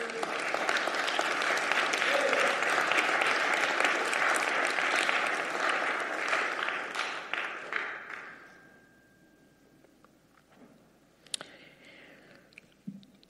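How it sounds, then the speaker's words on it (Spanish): A church congregation applauds for the Lord, with steady, dense clapping that thins out and fades after about eight seconds, leaving a quieter room with a few scattered sounds. "Denle un aplauso al Señor."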